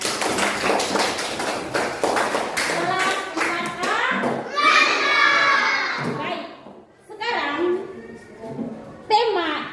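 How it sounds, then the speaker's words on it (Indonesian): A primary-school class of children in a dance lesson clap together in quick, sharp bursts, with excited kids' voices and shouts mixed in, rising and falling over several seconds. "Tepuk tangan dulu untuk kelas 4."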